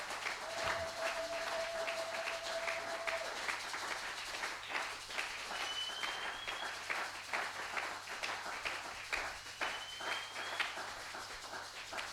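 A church congregation applauds with sustained, dense clapping that holds at an even level throughout, and faint tones drift above it.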